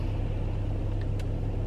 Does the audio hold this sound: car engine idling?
yes